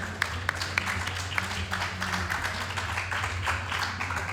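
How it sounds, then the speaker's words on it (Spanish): Audience applause after a presentation of a crime novel set in Havana, a steady patter of clapping from a modest crowd in a room, moderately loud and continuous throughout. "te damos otro aplauso"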